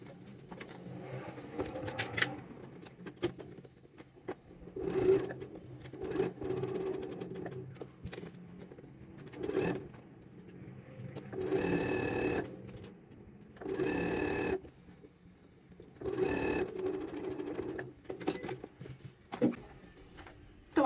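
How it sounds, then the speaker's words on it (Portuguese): Sewing machine stitching the crotch seam of a tailored trouser near the zipper, running in several bursts of steady whirring with short pauses between them, close and clear with no talking. "aqui faz a curva e costura o pertingale até aqui na parte de baixo do gancho"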